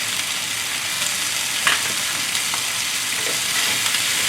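Cabbage stir-frying in sauce for moo shoo chicken, a steady broadband sizzle holding evenly throughout with a few faint clicks of a utensil, close and fairly loud, no voices.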